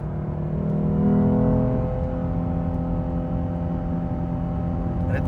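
A 2017 Lexus IS 350 with an RR Racing tune revs hard toward 7,200 rpm from inside the cabin, a loud steady engine drone with rising harmonic tones that swell briefly, then hold.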